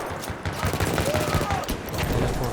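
Rapid gunfire and explosions from a Battlefield 1 first-person shooter match, with repeated sharp shots packed densely into a loud, continuous battle din.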